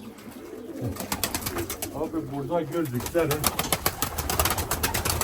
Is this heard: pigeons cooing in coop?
yes